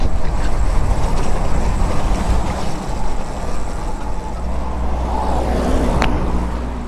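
Motorcycle engine riding fast through curvy hills near Toms River, revving steadily with a quick clutchless upshift as the throttle is released, loud and continuous with road and wind rush.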